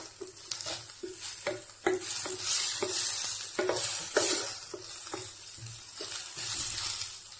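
Ingredients for a masoor dal gravy sauté in a hot pan, a steady sizzle broken by repeated scraping stirs at an uneven rhythm, close and fairly loud with no voices.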